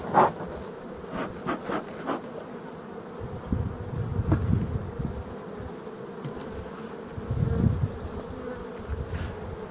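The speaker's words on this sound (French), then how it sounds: "c'est un essaim assez costaud" Honeybee swarm buzzing around a hive in an apiary, a steady dense drone with louder swells as bees pass close by.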